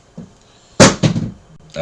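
A door bangs shut with a sharp wooden thud, followed by a second knock or rattle, then a faint voice begins at the end.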